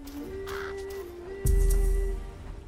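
A crow caws in the fantasy video game For the King, a harsh call rising over a droning game music tone, followed by a sudden low thump.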